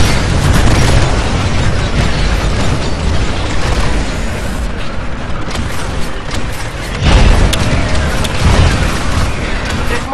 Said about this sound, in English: There's mortar titans shelling the harvester like crazy.